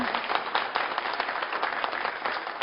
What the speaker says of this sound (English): could we give another big round of applause for everyone?